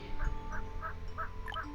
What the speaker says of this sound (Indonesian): ini ayam kalkun